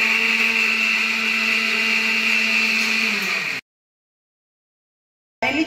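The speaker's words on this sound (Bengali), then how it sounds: "রসুন, আদা, গোলমরিচ আর গরম মশলা একবার বেটে নেব।" Electric blender grinding garlic, ginger, black pepper and garam masala, a loud steady whir for about three and a half seconds before cutting off, then a short burst restarting at the end.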